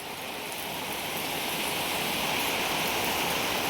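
Heavy monsoon rain pours into a cattle shed through a leaking tin roof, and water rushes along the floor, making a dense, steady, loud hiss with no pauses.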